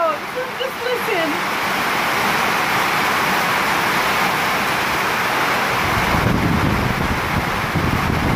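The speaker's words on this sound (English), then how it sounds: "it's raining. I miss these sounds. Just listen." A dense, steady roar of heavy rain in Jamaica from Hurricane Irma pours without a break, loud and close, with gusty noise swelling toward the end.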